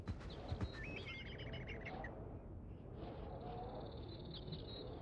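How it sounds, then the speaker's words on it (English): Outdoor bird calls from the Barbie: Explorer video game play inside a cave level: a burst of chirps and warbling trills near the start, then a thinner sustained call, over a constant rumbling background. "we're still getting a lot of these like outdoors bird noises"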